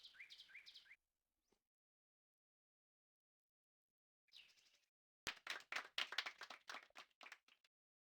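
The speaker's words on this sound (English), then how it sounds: "Most half-hearted golf clap sound in the world." A brief, thin smattering of golf clapping from a 1996 Sega Saturn golf game follows a short chirpy tone and silence, sounding small and unenthusiastic.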